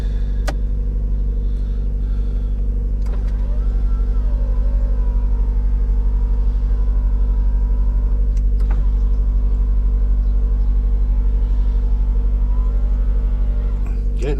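Steady close idling rumble of Scarlett, a car being warmed up before a drive to its MOT test, holding a constant low drone throughout with a few faint clicks and no talk.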